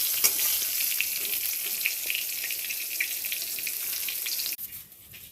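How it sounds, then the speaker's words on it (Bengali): Steady, dense sizzling of eggplant frying in hot oil in a pan, loud and close, cutting off abruptly near the end. "বেগুন ভাজাটা করে নিই"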